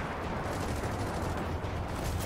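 Gunfire in the shooter Gears of War 4 aimed at sawhorses, a dense continuous burst of rapid shots and impacts, loud and close, with no voices over it.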